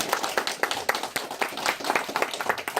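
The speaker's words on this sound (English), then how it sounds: "A round of applause for her, everybody." A crowd at an elementary school event claps steadily, with many hands making a dense, continuous patter of applause that stays even in loudness throughout.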